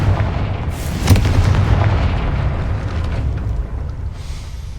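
A Confringo blasting spell explodes in a Hogwarts video game, a loud booming burst with a sharp crack near the start that rolls on into a long rumbling tail.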